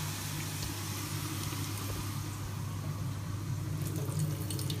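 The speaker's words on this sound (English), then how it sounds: "it's about time to drain the water" Starchy water from cooking rice for halal chicken rice pours steadily down a kitchen sink drain, a constant low rushing splash that stays even and close throughout with no talk.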